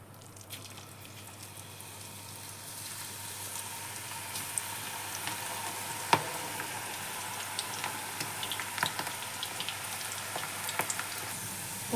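Cabbage pakodas deep fry in hot oil, a dense, steady bubbling crackle with scattered sharper pops throughout.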